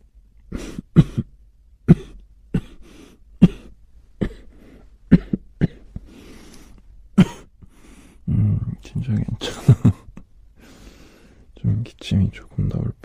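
Repeated sharp coughs, about a dozen, come in irregular bursts close to the mic, with some speech in between.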